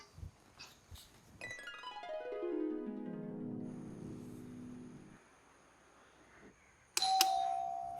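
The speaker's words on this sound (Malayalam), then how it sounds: "ഇതാരാണ് ഈ കോളിമ്പല്ലടിച്ചു കൂട്ടണത്" A doorbell rings repeatedly indoors, its electronic melody chiming and decaying softly, then starting again with a sharp ring near the end.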